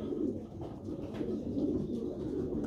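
Pigeons in a loft coo in soft, low overlapping murmurs, a steady close rumble of throaty calls with no talk.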